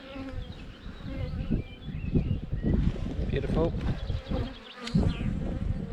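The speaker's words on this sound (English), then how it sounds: "A nice little bee down here, doing a little waggle as well." Honey bees buzz steadily and close during a spring hive inspection, a dense insect hum with a few sharper passes nearby, while a person speaks briefly over it.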